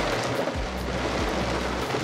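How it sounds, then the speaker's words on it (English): Steady rain in Wimberley, Texas, a constant close hiss of falling drops with a low rumble underneath, heard alone without talk. "we both love the rain anyways"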